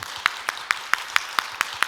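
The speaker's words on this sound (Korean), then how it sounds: "우리 감사의 박수 하나님께" A church congregation at a Wednesday morning lecture claps in quick, even unison, about eight crisp claps in a steady rhythm, with no speech over them.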